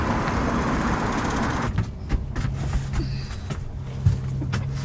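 An angkot, a small public minibus, pulls up nearby with a low engine rumble and a brief air-brake hiss, followed by idling and scattered clunks from the stopped vehicle.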